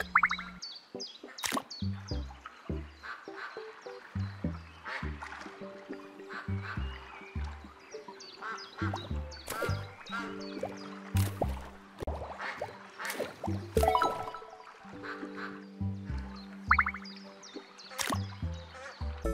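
Ducks at a duck pond in the video game SCHiM, heard as repeated short quacks and bouncy, boing-like cartoon tones over trickling water, with steady game music playing underneath.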